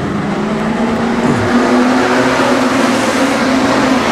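A pack of street stock race cars roars together in a B-main race for the Australian title at Redline Raceway, engines making a loud, dense, continuous drone that stays close throughout.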